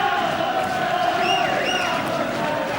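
A Scottish boxing crowd fills the hall with steady cheering and roaring at a home-town fight, a dense, continuous wall of voices with a couple of rising whistles or shouts cutting through midway.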